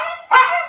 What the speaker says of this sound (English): there's one of the puppies that you can hear right there